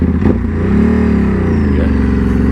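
A vehicle on an outback dirt road pulls away in second gear, its engine droning loud and near with a brief clatter at the start, then a steady labouring hum.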